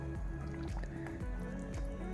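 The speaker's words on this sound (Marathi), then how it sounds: "आता या चिकनमध्ये आपल्याला गरम पाणी टाकून घ्यायचं आहे" Hot water is poured steadily into a pot of Malvani chicken curry, a continuous liquid splashing and gurgling with some wet squishing, close by.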